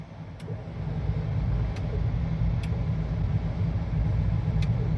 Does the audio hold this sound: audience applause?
no